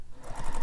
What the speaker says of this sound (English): So I'm just going to top stitch down either side of the line.